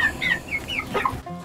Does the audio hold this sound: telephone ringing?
no